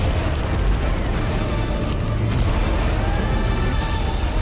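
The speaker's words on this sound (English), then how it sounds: "Do you like explosions?" Spaceship explosions in the EVE Online video game thunder as a dense, continuous barrage of booms and crashes, loud and layered with no pauses.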